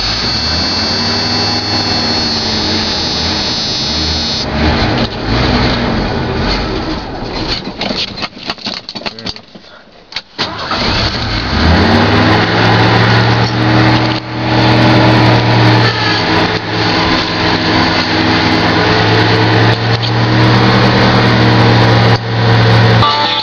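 A 1986 Ford F-150 pickup cranks, stumbles and fires on a cold start, then settles into a loud, steady idle close by.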